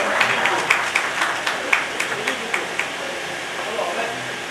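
Audience clapping at a religious gathering honouring a guru, a steady patter of many hands with sharper periodic claps, moderately loud, with some talk mixed in.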